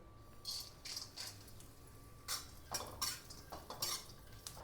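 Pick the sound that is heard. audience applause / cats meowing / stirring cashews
stirring cashews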